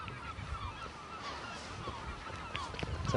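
A dense chorus of honking, squawking seabirds, including gulls, calls continuously on Île de Cézembre, many overlapping voices at moderate distance with no talk.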